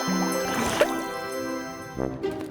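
Cartoon bubbling liquid in a sea of soup, with wet gurgling and dripping blips over a sustained musical tone, a brief pop near the start and a couple of rising bubble bursts toward the end.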